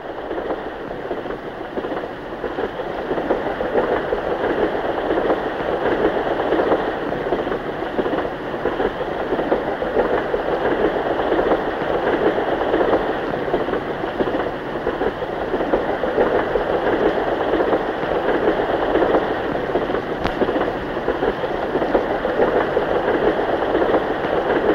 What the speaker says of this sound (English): This luxury train keeps moving through inland areas